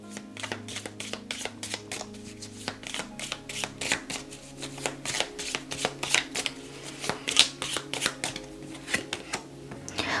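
Tarot cards being shuffled by hand in a steady run of close, crisp riffling flutters and soft slaps, continuous throughout with no talking.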